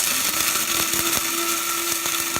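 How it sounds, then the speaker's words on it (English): An electric grinder runs continuously with a steady, high whirring hum as it pulverizes eggshells into a fine powder, close and loud, with faint rattling of shell pieces inside and no voices. "until it grinds itself up into a fine powder. The longer you hold it down, the more powdery it is."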